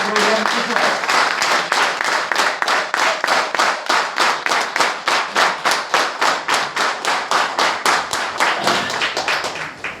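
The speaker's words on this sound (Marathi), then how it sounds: "तर तुमच्यासाठी एकदा जोरदार टाळ्या, जोरदार जोरदार टाळ्या वाजवायच्या, तर जोरदार वाजवायच्या." An audience at a Marathi speech event claps in a steady, fast rhythm. The loud clapping runs unbroken for the whole stretch, with each beat sharp and close.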